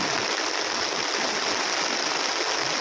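The swollen Norzagaray river rushes past in the Philippines, a steady, loud, even roar of flowing water with no talking.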